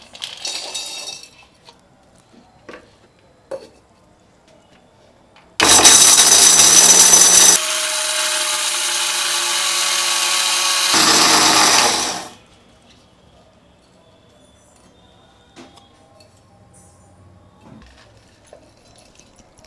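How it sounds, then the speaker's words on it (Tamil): A mixer grinder whirs loudly for about seven seconds as it grinds coconut to a fine paste, starting and stopping abruptly between quiet stretches. "இப்போ தேங்காவை மையாக அரைச்சிக்க போகிறோம்."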